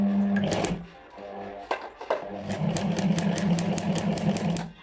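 A sewing machine stitches paper at a slow, steady pedal pace, with a brief stop and restart before settling into a regular, close mechanical clatter. No one speaks.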